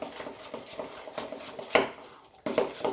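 Medu vada batter being beaten by hand in a bowl: rapid, soft rhythmic slaps and wet squelches, with a few louder knocks against the bowl near the end.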